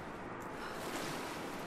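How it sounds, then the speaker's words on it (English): Water sloshing and rushing as a character swims and dives in freezing cold water in Rise of the Tomb Raider, a steady, close wash of surf-like noise with no talk. "let's go for a swim in the freezing cold water"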